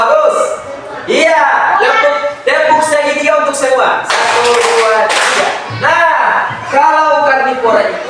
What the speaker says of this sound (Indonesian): Iya, tepuk segitiga untuk semua.